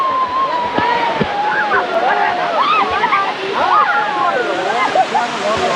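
Thatiguda waterfall in Araku pours in a steady, loud broadband rush that fills the whole stretch, with voices faintly mixed into the roar.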